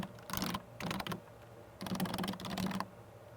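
Rapid keystrokes on a computer keyboard while entering address data into accounting software, coming in four quick bursts separated by short pauses, fairly close and clear with no talking.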